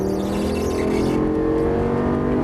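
A Lamborghini Gallardo Superleggera LP570-4 on a race track pulls hard under throttle, its engine a loud, close, sustained roar rising steadily in pitch for a couple of seconds.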